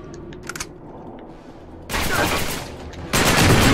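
Video game gunfire in Uncharted 3: after a quiet stretch with a few faint clicks, two loud bursts of dense rapid shooting break out, close and harsh, the second continuing to the end.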